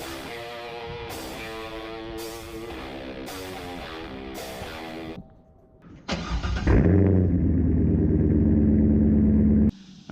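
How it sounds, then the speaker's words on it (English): A cold 2004 C5 Corvette V8 cranks briefly and fires, the engine note flaring loudly before settling into a steady, rumbling idle, heard up close with no talking. "Now the car is cold, so I'm just going to give it a start, let it warm up a little bit"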